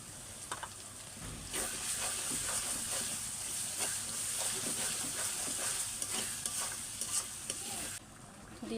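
Duck meat and spices fry in a pan over a clay stove, giving a loud, continuous close sizzle and hiss with stirring scrapes throughout, quieter at the very start and end, with no voices.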